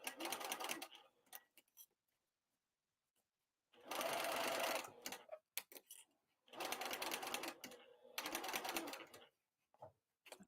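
A sewing machine runs long base stitches through the lining of a crossbody bag, with bursts of rapid whirring stitching separated by pauses and a few short clicks, loud and close.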